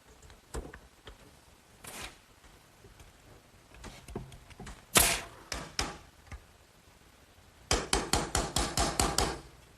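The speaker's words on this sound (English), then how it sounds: "this spacer that I just toe-nailed in is simply there to keep these hangers from moving in" Hammer toe-nailing a wooden spacer into the frame of a garden swing: scattered single blows first, then a quick closing run of about ten sharp, ringing strikes, close and loud.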